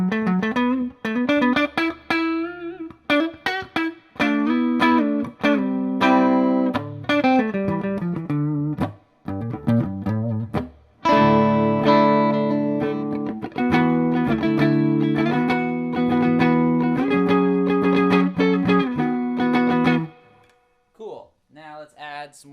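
Electric guitar through a Hughes & Kettner TubeMeister 36 tube amp, with bass and mids boosted and treble cut, playing thick distorted phrases with chords and sustained notes, broken by short pauses and ending in a faint fading tail.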